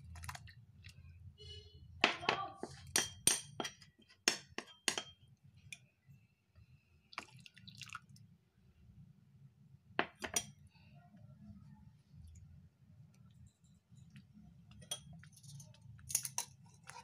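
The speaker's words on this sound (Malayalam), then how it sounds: "നമുക്കിതിലേക്ക് കോൺഫ്ലവർ ചേർത്തിയിട്ട് കൈവിടാതെ ഇങ്ങനെ ഇളക്കിക്കൊണ്ടിരിക്കാം" A spoon clinks against a pan while stirring coffee pudding of milk thickened with cornflour, giving faint, irregular bursts of light metallic taps separated by near-silence.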